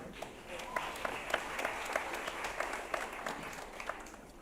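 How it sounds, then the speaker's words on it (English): A school audience applauds at a welcome ceremony for a visit to the International School of Tanganyika, a steady wash of many hands clapping with scattered sharper claps, heard from within the crowd. "Round of applause to yourselves as well."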